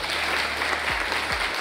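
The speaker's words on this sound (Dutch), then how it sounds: "Een warm applaus." Warm audience applause in a school gathering hall welcoming a speaker, a steady dense patter of many hands filling the room at an even level throughout.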